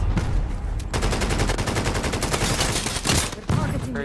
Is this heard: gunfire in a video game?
yes